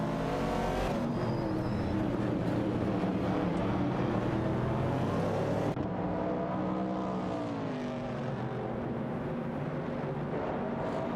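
Race cars in a racing video game, a Ford Mustang Boss and a Ford Falcon among them, making a steady, droning engine roar with shifting pitch that holds throughout at moderate level.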